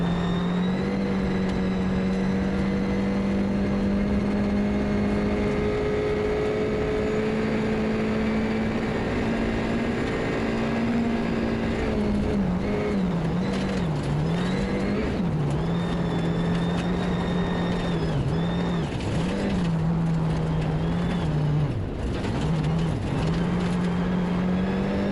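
Onboard rally car engine during a European Rally Championship stage at Rally Liepāja, loud sustained roar rising and falling with sharp revs and gearshift wobbles, continuous and close throughout.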